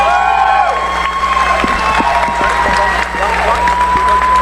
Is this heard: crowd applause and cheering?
yes